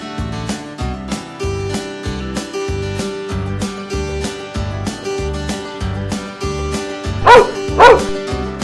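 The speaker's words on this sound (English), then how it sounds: "Dog." A dog barks twice in quick succession near the end, loud and close, over a steady, bouncy children's music backing track about farm animals.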